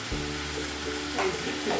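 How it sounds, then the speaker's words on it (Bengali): Ground cumin and chilli powder are stirred and fried in oil for a mixed vegetable curry. A short, close, steady sizzle plays with faint stirring scrapes over a low hum. "লঙ্কার গুঁড়োটা দিয়ে দিয়ে ভালো করে নাড়াচাড়া করে মশলাটা ভাজা করবো"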